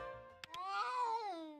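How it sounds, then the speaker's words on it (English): A cat yowls in the video game A Space for the Unbound, one drawn-out, rising and falling caterwaul heard close and alone after a couple of faint clicks. "What was that? A cat yell?"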